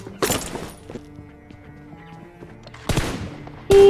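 Gunfire in a mobile shooter game's team deathmatch: loud bursts of rapid shots at the start and near the end, with a quieter stretch of faint game sounds between.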